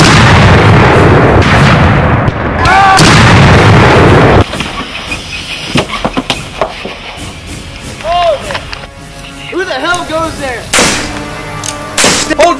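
Battle gunfire and artillery in a dramatization of a Civil War fight under Robert E. Lee, a dense loud barrage of crackling shots and booms that thins into scattered reports while voices shout over it.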